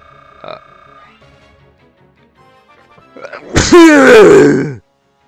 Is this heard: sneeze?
yes